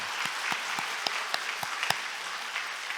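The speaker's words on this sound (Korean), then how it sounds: "박수 한번 해. 박수." Congregation at a Sunday church service claps together in a brief burst of applause, a dense patter of hand claps with a few sharper single claps standing out, steady and moderately loud throughout.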